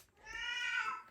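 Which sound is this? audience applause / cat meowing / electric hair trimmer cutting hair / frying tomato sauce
cat meowing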